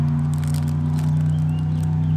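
Boat engines droning steadily across a bay, a constant low hum that holds without a break beneath faint scattered crackles.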